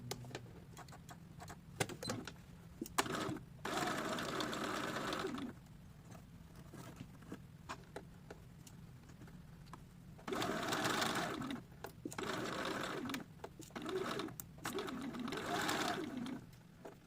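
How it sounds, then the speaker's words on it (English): A sewing machine straight-stitching a ruffle onto a small doll dress, running in several steady whirring bursts of a few seconds each, with quiet pauses and fabric handling between them. "Straight stitch across."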